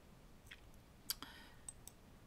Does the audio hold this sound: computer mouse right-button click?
yes